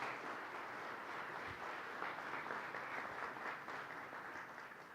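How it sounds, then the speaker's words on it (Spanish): An audience at a judicial-service talk applauds the speaker, with steady, even clapping from a crowd that sounds somewhat distant and holds constant until the end. "un fuerte aplauso para él"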